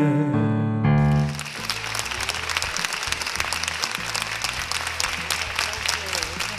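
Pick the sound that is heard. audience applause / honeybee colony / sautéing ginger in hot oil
audience applause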